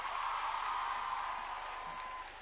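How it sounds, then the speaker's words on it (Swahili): Crowd applause for Kenya's education cabinet secretary at a girls' school thanksgiving ceremony in Kapsabet, a broad, even wash of many people clapping from a distance that fades slightly at the end. "Tumpigia makofi waziri wetu."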